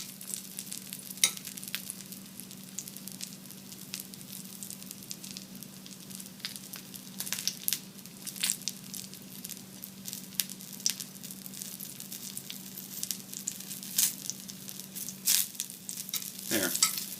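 Puffball mushrooms fry in hot oil in a pan, giving a steady close sizzle and crackle with occasional louder spits and stirring clatter, continuous throughout with no voices.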